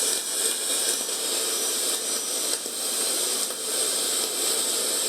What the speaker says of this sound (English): It's got a CW carrier and then a sweeping frequency